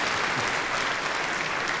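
Dense, steady audience applause at a university graduation ceremony, loud and continuous from a large crowd.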